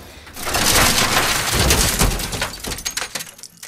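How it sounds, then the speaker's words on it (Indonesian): In The Last of Us, a bus rams a car and the car smashes into a shop, giving a loud, dense crunch of metal and shattering glass that breaks into scattered debris clatter as it fades. "Seketika juga ada sebuah bus yang menabrak mobil mereka, membuat mobilnya langsung menabrak sebuah toko."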